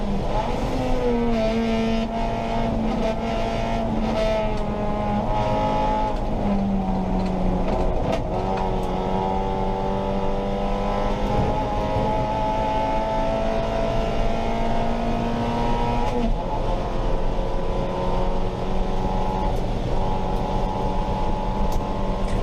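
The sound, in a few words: race car engine during a championship race lap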